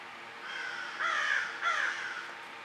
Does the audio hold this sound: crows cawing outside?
yes